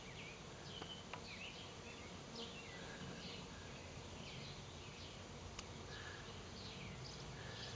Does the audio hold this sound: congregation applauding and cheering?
no